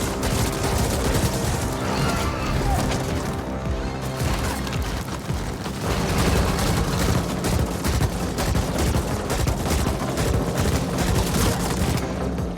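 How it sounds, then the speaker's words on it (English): Loud, dense gunfire from a video game battle rattles on without pause, a mix of rapid bursts and crashing impacts that fill the whole stretch. "Stop shooting me in the back!"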